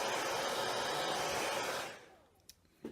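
A hair dryer blows loud and steady, drying paint on a wooden farmhouse noodle board, then shuts off near the two-second mark, leaving a few small clicks and knocks.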